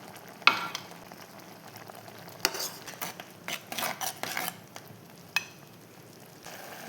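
Prawns cooking in a pan with oil added, giving a quiet frying sizzle broken by sharp metallic clinks and scrapes of a spoon against the pan, close and without voices.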